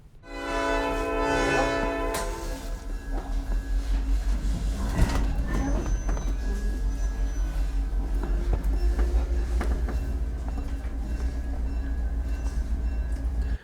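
An excursion train on the Hoosier Valley Railroad rumbles steadily with a low engine drone, a brief horn blast at the start and clanks of the rail cars, with some faint voices underneath.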